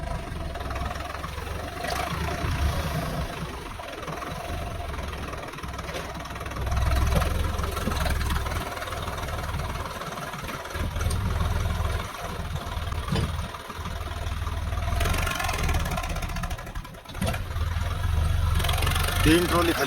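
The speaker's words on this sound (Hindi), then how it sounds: "3 ट्रॉली खाली हो गई है और तीनों ट्रैक्टर लगातार लगे हुए हैं" Several tractors hauling sand trolleys at a farm site, engines idling and chugging with a low steady rumble that swells and dips, while people talk in Hindi over the machinery.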